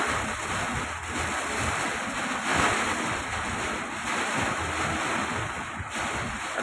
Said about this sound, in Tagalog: Bigla niya buhos ng tubig na ang daming volume.